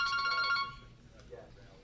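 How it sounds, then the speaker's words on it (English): A telephone rings with a bright electronic tone during a podcast in a vape shop, one short burst sounding near and then cutting off, followed by quiet room noise. "to repeat what I was saying when the phone rang"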